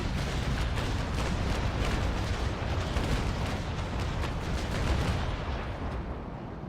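A ship's starboard guns in a naval battle game fire in a rapid, rolling barrage of booming shots, loud and continuous for several seconds before easing off slightly at the end.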